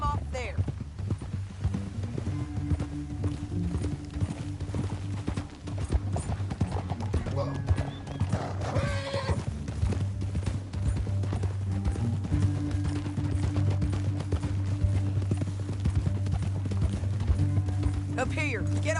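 Horses galloping across open country in Red Dead Redemption 2, a steady drumming of hooves running throughout under a continuous music score, with a brief whinny partway through.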